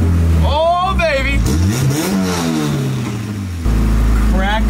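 A Honda Civic fastback's engine hums low and steady inside the closed cabin while driving, swelling slightly as it revs, with someone talking loudly over it throughout.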